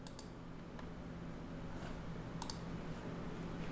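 A few sharp computer mouse clicks, spaced apart and fairly quiet, rise above a steady low electrical hum as the OK button is pressed.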